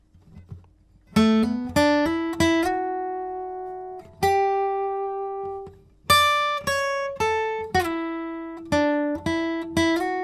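Fingerpicked guitar plays the second part of a song an octave higher, a few bright plucked notes with pauses between sustained tones, close and clean with no talking.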